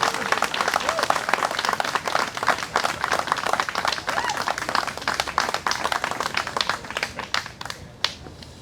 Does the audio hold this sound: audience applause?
yes